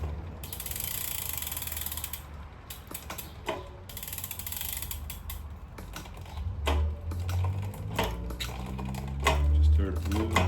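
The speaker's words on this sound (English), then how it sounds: "Let's watch that front derailleur as we walk down the cassette." Lauf Uthald bicycle drivetrain clicking and ratcheting through gear shifts across the cassette, with repeated mechanical clicks and a low whirring hum from pedaling, close and moderately loud.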